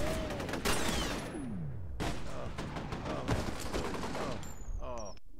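Suppressed gunfire in the first-person shooter F.E.A.R., delivered as several bursts of muffled shots amid loud, busy combat noise. Shots and impacts repeat through the stretch, with a final sharp burst near the end.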